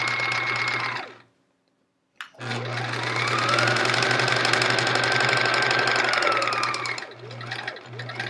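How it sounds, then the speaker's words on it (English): A sewing machine stitches fabric scraps for a chevron quilt, running in a steady loud mechanical whir that stops for about a second, then resumes and holds with slight speed changes. "I'm gonna sew the other piece on before we press it"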